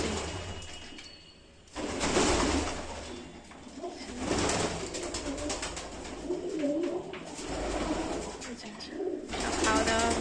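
Pigeons on a rooftop, where they have been eating puffed rice, coo in repeated soft, throaty phrases close by, with faint background noise.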